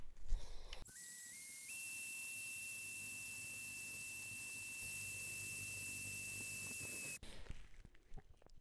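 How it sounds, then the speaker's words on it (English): A hand drill boring through 1/4 inch steel, a steady high-pitched whine that rises in pitch after starting and holds for several seconds before cutting off abruptly, with handling noise before and after. "this drill is going to be able to pilot its way straight through this 1/4 inch material"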